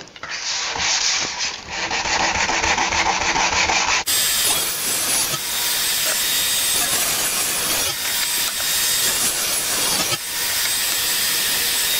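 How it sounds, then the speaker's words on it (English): Hand sanding of a wooden display case built for four knives: steady, close abrasive rubbing strokes run continuously for the whole stretch, loud and alone with no talking. "I'll go ahead and do this hand sanding"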